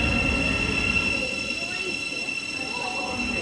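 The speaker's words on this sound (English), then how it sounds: "we need to take the big step getting on the train now" A train heard from inside or alongside the carriage gives a steady, loud rumble with a high sustained whine over it, continuous throughout with no clear breaks.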